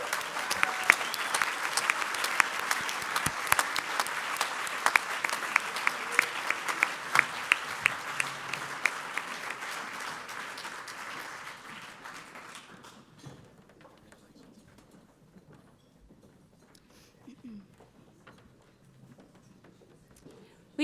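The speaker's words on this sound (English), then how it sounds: "So can you please give one more big round of applause for everyone who won?" An audience at an alumni awards ceremony applauds, dense, loud clapping for about twelve seconds that fades away into quiet room tone.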